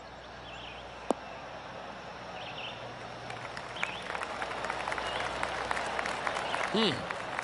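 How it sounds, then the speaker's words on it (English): Polite golf clap from a gallery at a golf tournament in the PGA Tour 2K21 video game, a steady patter of scattered clapping that builds gently over several seconds with faint chirps and ambient course noise behind it. "That deserves a golf clap."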